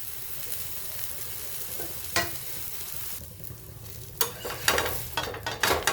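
A bottle gourd thalipeeth roasts in a pan, giving a soft, steady sizzle with a few sharper scraping and flipping noises toward the end.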